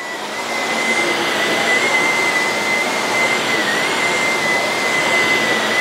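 A Shark Navigator upright vacuum cleaner runs steadily at close range, a loud continuous motor whine and airflow roar with a thin high tone, holding an even level throughout without speech.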